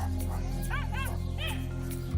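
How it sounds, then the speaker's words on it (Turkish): Several agitated dogs in Sumatra yip, whimper and bark in short bursts over a steady low hum, fairly close, with a person talking at times. "Bütün köpekler telaşlı."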